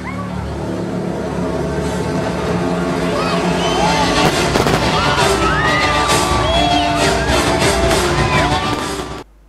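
A fireworks finale at an outdoor town concert in Dimitrovgrad brings loud, repeated bangs and whistling rockets over a cheering, whooping crowd.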